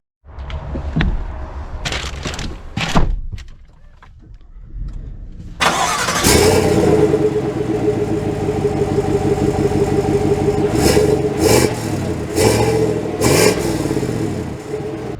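A 2024 GMC Sierra 1500 Elevation pickup truck starts with a few clicks and a cranking catch, then its engine settles into a steady, loud running drone with repeated rising revs as it pulls away and drives.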